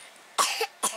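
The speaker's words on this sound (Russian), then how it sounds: "Хватит кашлять." Two sharp coughs from a person out on a walk near a forest, close and distinct, each a short harsh burst separated by a brief pause.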